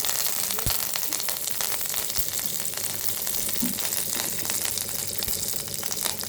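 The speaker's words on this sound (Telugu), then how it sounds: "ఒక 2 టేబుల్ స్పూన్స్ ఆయిల్ వేసుకొని ఆవాలు, జీలకర్ర, మెంతులు, తెల్లుల్లిపాయ వేసాను" Mustard seeds, cumin, fenugreek and garlic fry in two tablespoons of hot oil for a rasam tempering, giving a steady, close, dense sizzle with faint crackles throughout and no talking.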